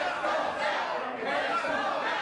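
A wrestling crowd at the Matt Carlos vs Mr. Wrestling #4 match keeps up a dense, steady mix of chatter and shouting across the hall.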